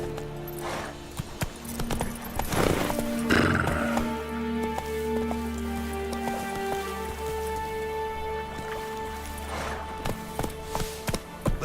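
In The Witcher 3, the horse Roach moves along in rhythmic hoofbeats with a brief whinny near the start, set over rain and layered game ambience.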